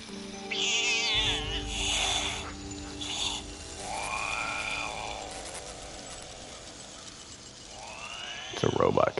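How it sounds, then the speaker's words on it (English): Robot cat in Fallout 76 gives a few electronic meows with whirring, ratcheting mechanical sounds between them, moderately loud and close, followed by a short clatter at the end. "It's a robot cat."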